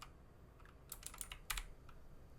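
Computer keyboard keys pressed in a quick cluster during AutoCAD work, a few sharp close clicks and a final firmer tap, with no talking.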